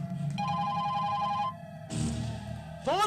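A telephone rings in a film scene with repeated electronic tones in short patterned bursts, fairly loud and near, ending in a rising warble.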